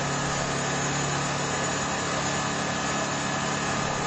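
A HW2000i inverter generator engine runs at a constant, steady drone with no change in pitch or level from start to finish, loud and close.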